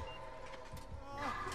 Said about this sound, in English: Beeping has begun.